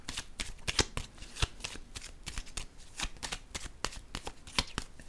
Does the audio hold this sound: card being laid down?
yes